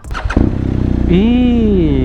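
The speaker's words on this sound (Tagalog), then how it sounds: "Gumaganon yung motor pag i-start no?" A Kawasaki Z1000 motorcycle cranks briefly with a few clicks and catches, then settles into a loud, close idle whose pitch rises and dips.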